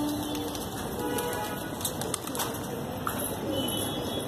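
Desi high flyer pigeons coo softly and intermittently amid a busy background hiss and scattered noises, faint and fairly close, with no voices.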